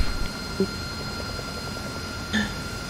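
A helicopter in the DCS flight simulator drones with a steady low engine and rotor hum, a constant mid-level rumble with faint tonal whine and a couple of brief blips over it.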